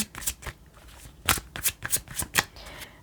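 Romance Angel oracle cards shuffled by hand, a series of crisp papery riffles and snaps up close, irregular in rhythm, with no voice over them.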